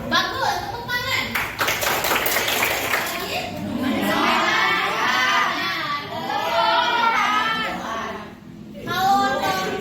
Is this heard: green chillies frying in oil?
no